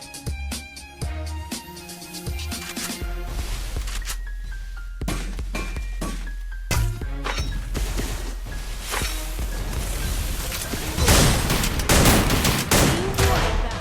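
Rapid bursts of gunfire from a Garena Free Fire match, loud and close, with dense volleys, single cracks and heavier bursts near the end over game music, no talking.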